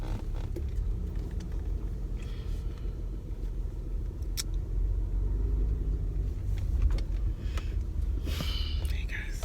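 A car idles and rumbles close by outside a house, a steady low engine drone running throughout with faint voices and small handling noises over it.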